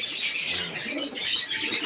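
Chocolate Doma pigeons coo softly inside a loft, a low, close, continuous murmur of calls with faint chirps and no talking.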